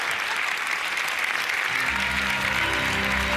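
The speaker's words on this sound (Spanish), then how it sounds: "¡Ese aplauso fuerte!" A live comedy audience breaks into loud, continuous applause, dense clapping filling the room, with a low voice or tone emerging beneath it toward the end.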